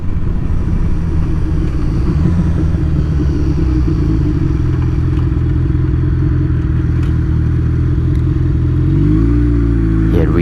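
Honda CB750 motorcycle riding along with a steady, loud, close engine rumble and drone throughout, shifting in pitch near the end as it revs or changes gear.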